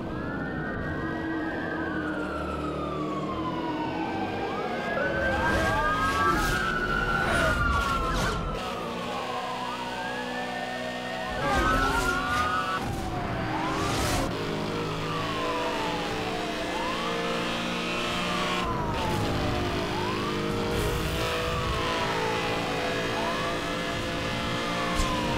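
Wailing police sirens sweep up and down over revving car engines as officers chase a green Lamborghini in Roblox, several sirens overlapping loudly and continuously throughout with no talk.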